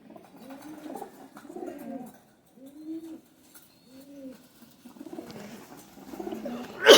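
Khatang pigeons, mostly females, coo in soft repeated rounded phrases, several close calls in a row with brief gaps, fairly quiet, ending with a sudden louder rustle or knock.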